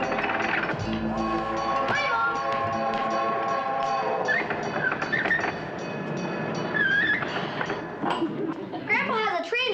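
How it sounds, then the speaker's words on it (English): Model toy trains run in a home layout with rattling wheels and a short whistle-like tone, mixed with clattering and brief squeaky sounds, while people talk over the scene. "Grandpa has the trains working real neat now."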